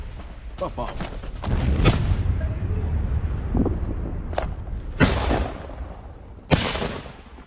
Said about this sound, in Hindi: गोलियां बरसाते दिखे यूक्रेनी सैनिक, गोलीबारी करते हुए आगे बढ़ रहे हैं ये सैनिक।